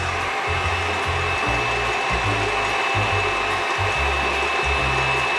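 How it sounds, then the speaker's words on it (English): An electric mixer whips egg whites with sugar and a little lemon juice for a chocolate cake, a loud, steady motor whir with an uneven, rhythmic churning underneath, close up and with no talking. "So my egg whites are whipped."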